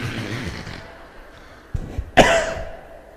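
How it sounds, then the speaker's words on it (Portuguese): A lecturer with pneumonia coughs in a large hall, giving a couple of sharp, loud coughs after some indistinct room noise and low murmuring. "Ao longo da palestra eu vou tossir muito."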